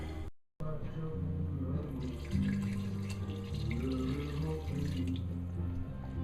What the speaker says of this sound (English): So I'm going to add enough water back to it to bring it back up to the top of the veggies where it was.